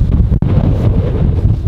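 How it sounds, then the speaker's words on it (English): Strong wind buffets the microphone with a loud, continuous low rumble, briefly dropping out for a moment before roaring on. "As you can tell, it's very windy outside."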